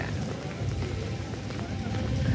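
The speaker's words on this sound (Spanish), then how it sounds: "está lloviendo" Rain falling steadily outdoors in a town plaza during a festival procession in Aranza, Michoacán, a dense, even hiss that carries through the whole stretch with no clear voices.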